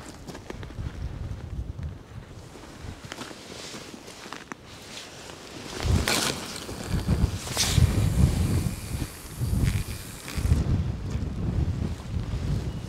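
Wind blows hard around a fishing boat off Norway's coast, rough buffeting gusts hitting the microphone that swell and drop, louder in the second half, with no speech.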